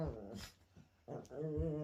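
A dog rolling on the floor gives soft growls, whimpers and yips in a couple of short, close vocal bursts.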